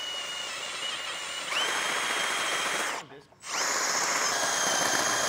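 A power drill drilling out a thread in a Subaru WRX engine whines steadily up close, its pitch rising as it bites, stops for a moment, then spins up again.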